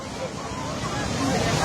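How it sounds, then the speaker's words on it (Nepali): A sudden flash flood surges down the Tirsin river near Syapru Besi, making a loud continuous roar of rushing water with voices shouting in the background. "आज स्याप्री बेचीबाट तिर्सिन नदी बाढी आएको"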